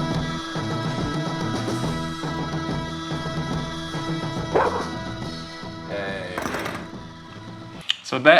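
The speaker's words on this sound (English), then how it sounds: "So that is an alert bark." A dog gives alert barks, as though someone is at the door, mixed in with a film scene's music and dialogue, with a few sharper bursts near the end.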